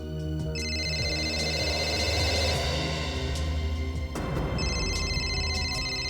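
A telephone rings with a sustained electronic tone that pauses briefly and resumes, layered over dramatic background music.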